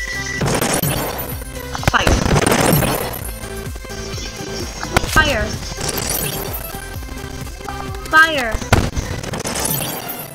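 Explosions and shattering debris from a bomb in the video game Destruction Simulator, with loud crashing bursts and breaking sounds layered over game music and effects, while a person talks over much of the action.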